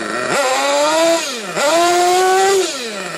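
Small nitro RC car engine revving up and down while its idle and mixture are adjusted with the glow igniter attached, a buzzy, rasping whine that rises, dips and climbs again in two close, loud bursts.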